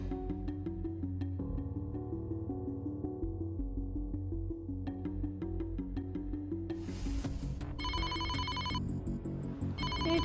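A phone ringtone breaks in near the end of a home drama scene, after a burst of noise; its bright repeating electronic tones sound over steady background music that runs throughout.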